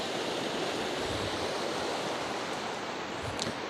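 Fast, forceful river current carrying big stones, a flooded river near Gurdwara Sri Toka Sahib that has washed out a road, roaring as a steady, dense rush of water that holds even from start to finish with no voices.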